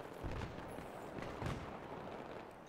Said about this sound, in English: I shoot him.